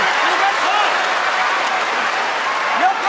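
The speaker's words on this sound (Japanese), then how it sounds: "場内この歓声" Loud, sustained roar of a packed sumo arena crowd cheering through a tense bout between two sekiwake wrestlers at a Makuuchi division match, a dense, steady wall of voices with no pauses.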